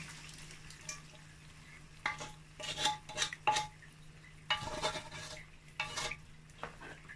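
Tomato being stirred into jollof rice in a pot, with scraping, clinking spoon strokes in irregular bursts over a low sizzle, close and moderately quiet, with no talking.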